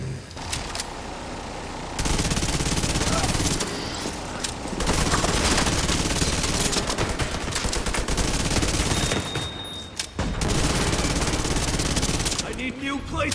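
Sustained automatic gunfire in The Division 2, loud and close, with dense rapid bursts broken by short pauses around two brief lulls.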